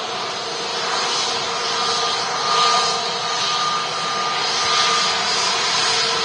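Aircraft with a seven-year-old airframe flying in slightly blustery afternoon conditions, a steady broadband engine roar mixed with wind rush, swelling slightly at moments and continuous throughout.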